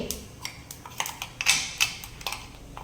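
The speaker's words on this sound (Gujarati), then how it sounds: "જો તલ સરસ તતડવા લાગ્યા છે" Sesame seeds and cumin crackling in hot oil while tempering for a farali potato dish with chutney, a light scatter of sharp pops and ticks with no talk.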